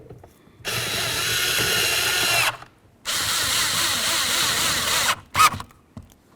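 Power ratchet driving three long screws into the rear driver's side door panel of a 2007-2017 Ford Expedition, two long steady whirring bursts followed by a short final spin, close and loud.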